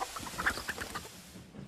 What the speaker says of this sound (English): Pesky chickens.